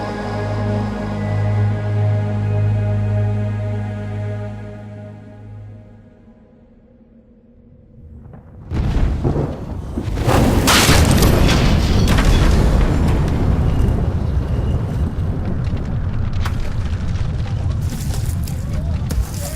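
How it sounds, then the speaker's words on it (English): A dramatized Bible reading carries an earthquake rumble effect. A sustained tonal drone fades out and is cut off by a sudden deep crash, followed by a loud, continuous, roaring rumble that persists to the end. "And the earth quaked, and the rocks were split"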